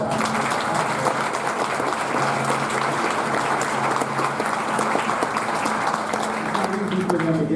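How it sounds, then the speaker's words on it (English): Sustained audience applause fills a band winter concert hall, dense steady clapping from a large crowd lasting throughout without a break. "give them all a round of applause"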